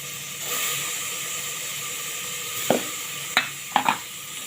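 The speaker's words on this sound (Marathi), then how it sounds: "टॉमॅटो परतून घ्यायचा आहे टॉमॅटो आपल्याला शिजवायचा आहे" Chopped tomato fries in oil with garlic and chilli paste, giving a soft steady sizzle, with a few sharp spoon scrapes and taps against the pan near the end.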